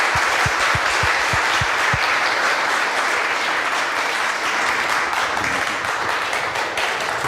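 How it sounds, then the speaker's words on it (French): An audience at a conference event applauds steadily, a dense wash of clapping that fills the room, with a few sharp individual claps standing out at the start. "Je vous demande d'applaudir Moussa Camara"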